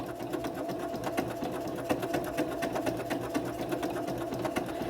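A sewing machine with a cording foot stitching down cords, a fast, even rhythmic needle clatter over a soft motor hum, close and steady throughout with no talking.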